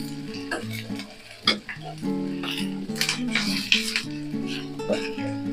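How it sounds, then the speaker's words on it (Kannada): Finely chopped onions sizzle and crackle in a hot pan while a sandwich filling is prepared, with steady frying hiss, occasional clinks of a spoon stirring against the pan, and a voice talking over it. "ಉಳ್ಳಾಗಡ್ಡಿ ಹಾಕಿ ನೋಡ್ರಿ ಫ್ರೈ ಮಾಡ್ಕೊಳ್ಳೋಣ"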